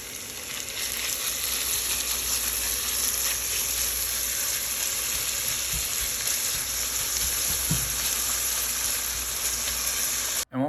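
Bacon sizzles loudly in a pan alongside scallops and garlic. The frying hiss is dense and steady from start to finish, with a few faint stirring clinks under it and no speech.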